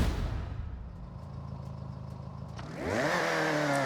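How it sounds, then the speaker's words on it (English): A car engine in Forza Horizon 6 during a 1980s-themed racing event idles with a low, steady rumble, then revs up sharply near the end into a louder, rising whine. "Alright, we gotta hear the engine."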